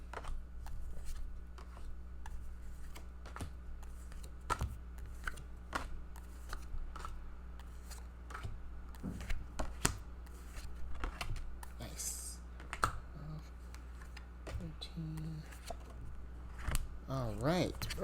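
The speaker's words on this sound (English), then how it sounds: "Let's go and get these cards pulled," Tarot cards riffle and snap repeatedly at close range during a reading, crisp shuffling clicks scattered over a low steady hum, with occasional faint voice.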